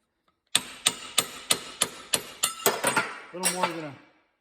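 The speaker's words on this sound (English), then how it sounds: "I just took this big cold chisel here and a ball peen and just gave it a couple of shots" A ball peen hammer strikes a cold chisel against a crankshaft from a DRZ400 sitting loose in a vise, ringing out about a dozen sharp metallic blows in quickening succession, then a spoken remark follows.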